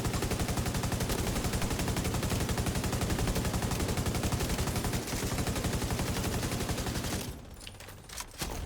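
Rapid sustained gunfire, a dense machine-gun burst of evenly spaced loud shots running for about seven seconds before stopping abruptly, followed by a brief quieter tail.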